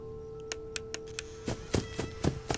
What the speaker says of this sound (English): The turning on the flashlight and turning it off.